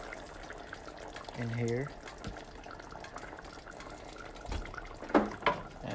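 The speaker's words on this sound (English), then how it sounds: "I'm adding the tomato sauce" Tomato sauce poured into a pan of simmering chickpea and egg curry, soft liquid pouring and bubbling sounds close by, with a person speaking briefly over it.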